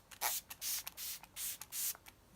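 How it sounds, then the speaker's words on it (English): Five short hissing bursts of Smashbox Primer Water spritzed onto a face from close by, separated by brief pauses, with no talking. "When you first spray the primer water on"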